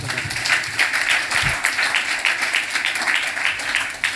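A church congregation claps in a rhythmic, steady beat, the claps close and fairly loud, keeping an even pulse for several seconds without talk.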